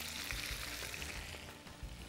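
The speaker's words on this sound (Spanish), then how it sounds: "que se sofrían estas verduras, insisto, las tengo a fuego fuerte" Vegetables with oyster mushroom strips sautéing over high heat in a pot for a chicken stir-fry: a dense continuous sizzle and crackle close up, with a few low thumps of movement.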